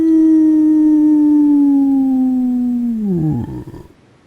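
A person imitates a dog-like howl with the voice: one long, loud, sustained wavering note that slowly falls in pitch, then breaks up and trails off into breathy, uneven sounds near the end.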